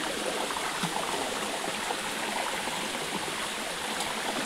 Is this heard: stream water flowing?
yes